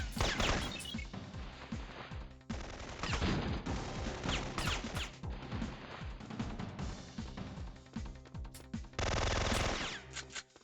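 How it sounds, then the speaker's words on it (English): Syphon Filter gunfire as a guard is shot, with rapid bursts of loud automatic fire and sharp impacts running nearly throughout and a dense sustained volley near the end. "I think I screwed up there by actually shooting that guard."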